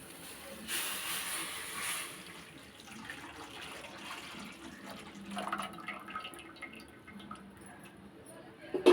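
Water pours and splashes softly into a pan at a close distance, a gentle trickle with faint dripping, quiet throughout.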